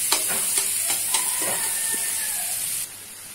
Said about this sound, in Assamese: এনেকৈ মই পিঁয়াজ আৰু কেপচিকামখিনি ভালকৈ ভাজি ল'ম।